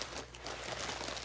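Plastic mailing bag crinkling as it is handled and opened, a quiet, continuous rustle close by with no talk.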